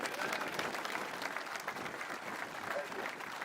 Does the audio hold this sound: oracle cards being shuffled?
no